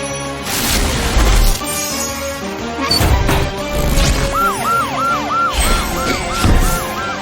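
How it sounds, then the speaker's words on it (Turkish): A police car siren wails, rising and falling repeatedly in the second half, preceded by heavy crashes and impacts from toy trucks, loud and close. "Polis arabası."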